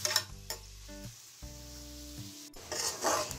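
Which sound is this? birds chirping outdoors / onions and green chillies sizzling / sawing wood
onions and green chillies sizzling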